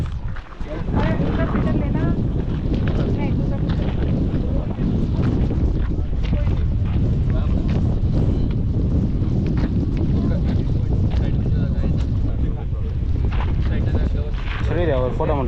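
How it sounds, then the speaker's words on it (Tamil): Strong wind buffets the microphone at Lohagad Fort in Maharashtra, India, a loud continuous roaring rumble that persists throughout with only brief dips. "இந்த பக்கம் நல்லா காற்று இப்படி அடிக்குது."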